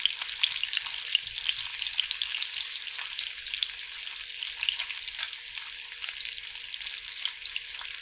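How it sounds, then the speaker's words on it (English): Bacon fries in a pan for a breakfast of bacon, egg and toast, with a bright, even crackle and spitting fat that continues evenly throughout. "And then fry with the bacon"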